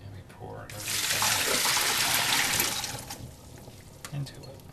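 Pomegranate seeds and water are poured into a colander, making a loud rushing splash that lasts about two seconds and then fades to small drips and clatter.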